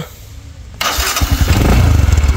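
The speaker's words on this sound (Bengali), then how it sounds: "এখন বাইকটা স্টার্ট করে দেখাবো" A second-hand Bajaj Discover 110cc motorcycle engine cranks and catches after a moment of quiet, then settles into a loud, steady, throbbing idle close by.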